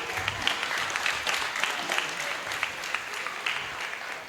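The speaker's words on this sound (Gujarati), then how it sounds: "તાળીઓથી વધાવી લઈશું બધાને ફરી એકવાર." Applause for a children's performance at a school event, as a steady patter of many hands clapping at moderate volume for several seconds.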